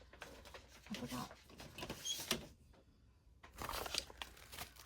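Blue tissue paper crinkling and rustling as it is handled, in soft bursts of crackle with pauses between, fairly close and quiet.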